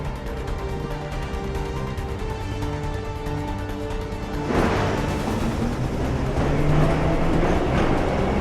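Metro train in Assassin's Creed III rumbles and rattles steadily with a dense, loud roar that swells partway through as the carriages pick up noise.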